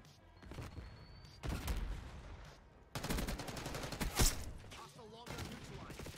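Jackal PDW fire in Black Ops 6: several rapid bursts of automatic gunfire with sharp cracks and one heavy report, separated by quieter gaps of game ambience.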